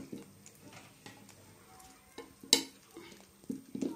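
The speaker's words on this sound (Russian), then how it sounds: "Давайте попробуем вот этим ножом проковырнуть глазки." A knife scrapes and pokes at the eyes of a hard coconut, producing sparse scratchy taps and clicks with one sharper knock, close and fairly quiet.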